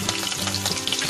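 Green chili with cumin, cinnamon, cardamom and cloves frying in hot oil in a pan, a dense crackling sizzle that is close and continuous throughout.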